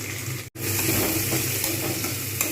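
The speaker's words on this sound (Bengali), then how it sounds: "তবে আগে পেঁয়াজটা কিছুটা পরিমাণে ভালো করে ভাজা দরকার রয়েছে" Onions frying in a pan sizzle steadily and loudly, a continuous hiss with one brief break near the start, with no talking over it.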